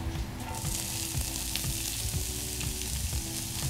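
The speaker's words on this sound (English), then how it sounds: "so this has been sauteing for 2 minutes" Onions saute in soybean oil in a pan for vegan black bean burgers, giving an even, steady sizzle with soft bubbling crackles and no talking.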